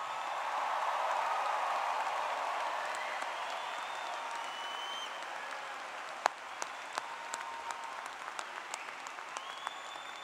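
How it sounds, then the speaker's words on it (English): Applause at a Clemson University graduation ceremony greeting the newest graduates: a broad, steady wash of many hands clapping throughout a large hall, with a few sharper individual claps standing out near the end. "How about another round of applause for our newest graduates?"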